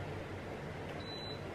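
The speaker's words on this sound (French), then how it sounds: "Ça fait bip." A single thin electronic beep sounds briefly over a steady background hum.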